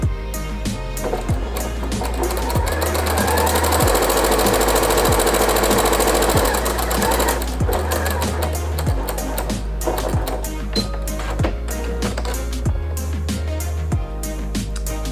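An ELNA Lotus 2 sewing machine stitching fabric for patchwork, a loud, fast, continuous mechanical clatter with brief pauses between bursts of stitching, with no talking.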